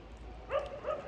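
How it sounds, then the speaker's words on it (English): Wild dogs bark at an outdoor market in Kharkiv, Ukraine, two short barks at some distance rising over a steady background murmur. "there's a load of wild dogs barking"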